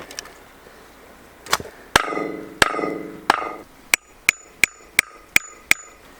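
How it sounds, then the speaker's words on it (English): Sharp metallic hammer strikes, a few slower ringing blows and then a quick, even series of taps, close and loud. "I need a hammer."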